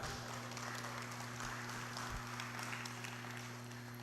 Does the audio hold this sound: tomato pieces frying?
no